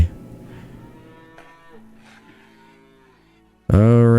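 Cattle in the farming game Farmer's Dynasty give one loud, close moo that cuts in abruptly near the end, after a few seconds of quiet, fading tonal game sound.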